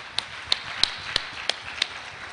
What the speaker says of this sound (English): give the presenters a good clap